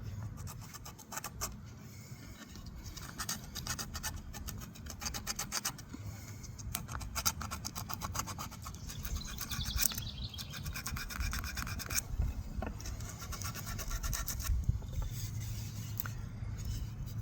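Sandpaper rubbing a carved wooden walking stick, a steady dry rasping scrape with repeated back-and-forth strokes, close and fairly quiet, without talk.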